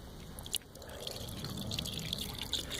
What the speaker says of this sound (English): I'm going to just pour out a little bit of it into this glass